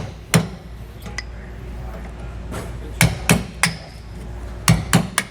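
A hammer strikes worn nylon bushings on a tandem-axle trailer suspension on a 2018 Shasta trailer. The sharp metallic blows come close and loud, about nine of them, in small clusters separated by pauses.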